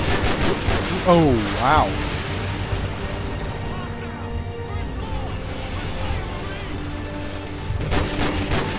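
Gunfire in Call of Duty 4: Modern Warfare, with loud bursts near the start and end over game noise and music, while someone talks now and then.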